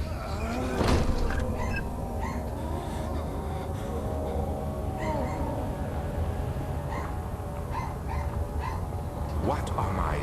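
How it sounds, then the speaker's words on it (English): A dog barks in a horror video game, with a sharp bark near the start and another toward the end over a dark, droning ambient bed, with a voice speaking at times. "Shut up, dog!"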